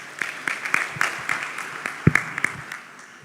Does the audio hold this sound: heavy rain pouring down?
no